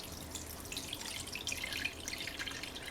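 Water poured slowly into a pot of homemade New Orleans jambalaya, a close, steady trickling splash with light dripping throughout, no speech.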